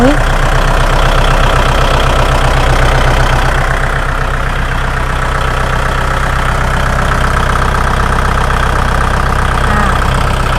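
A used Kubota 47 hp tractor, model L4708SP or L4508DI, idling loudly and steadily nearby with a constant low diesel rumble, while a voice talks over it.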